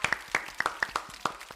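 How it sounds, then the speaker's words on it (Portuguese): A few scattered hand claps at a church talk show, sparse and irregular, fairly close and moderately loud, with no one speaking over them. "Meu Deus, eu queria bater uma salva de palmas."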